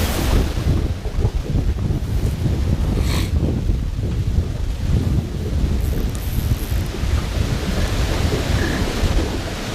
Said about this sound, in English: So the wind is blowing two directions, downstream and in my face right now